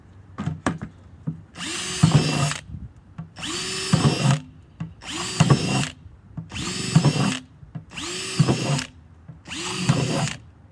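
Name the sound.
power drill drilling holes in plastic bucket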